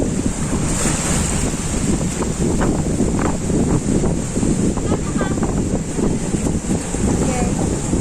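Strong wind buffets the microphone on Big Wave Bay beach at Shek O, roaring loud and constant alongside crashing surf throughout.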